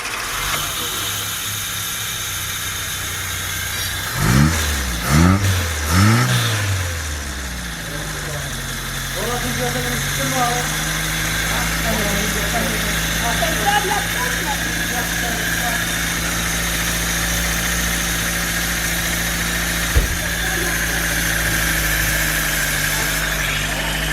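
A Fiat Palio 1.2 with coolant and overheating problems cranks over a few times, catches, and settles into a steady close idle with a mild vibration that carries on to the end.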